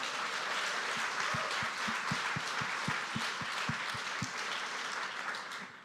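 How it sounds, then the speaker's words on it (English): An in-person audience at a live debate applauds, giving a steady wash of clapping with distinct rhythmic claps close to the microphone, tapering off at the end. "Round of applause for all of you guys for coming."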